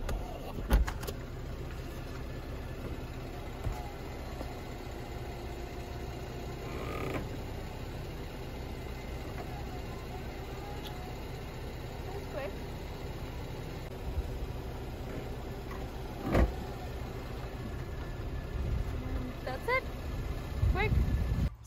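Fabric soft top on a 2014 Mercedes-Benz E350 Cabriolet opening, a steady low mechanical whir with intermittent creaks and clicks, growing louder with a few sharp knocks near the end.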